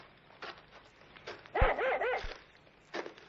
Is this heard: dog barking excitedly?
yes